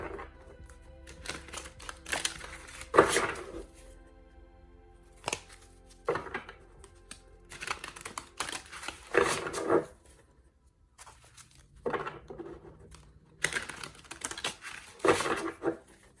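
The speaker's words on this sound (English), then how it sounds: "So you can side shuffle." A tarot deck being side shuffled by hand, with soft clustered bursts of riffling card taps and rustles separated by quiet pauses, close and faint.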